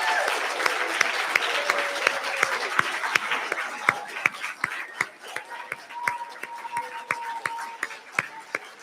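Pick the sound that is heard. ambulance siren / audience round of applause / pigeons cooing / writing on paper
audience round of applause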